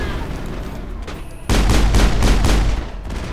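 Gunfire in Mass Effect as shots are fired on foot on a planet surface near the Mako vehicle. A quieter start gives way to a loud run of rhythmic, booming shots before it eases off.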